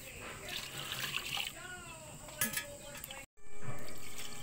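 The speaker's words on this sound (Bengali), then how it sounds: "এবার আমি গরম জলটা দিয়ে দেবো।" Hot water poured from a vessel over fish in a bowl, a splashing, trickling pour over a couple of seconds, fairly close and soft, ending in a brief cut, with someone talking alongside.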